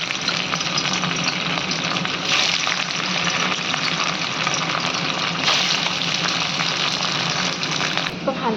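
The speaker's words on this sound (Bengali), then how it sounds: "হালকা ব্রাউন করে এরকম করে সব পনিরগুলো ভেজে নেব" Paneer pieces fry in hot oil with a steady, loud crackling sizzle that runs continuously throughout, close up and without pauses.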